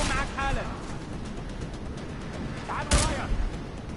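Gunshots from the video game Deus Ex: Mankind Divided, a sharp burst near the start and another loud crack about three seconds in, over a steady noisy game background with a voice speaking.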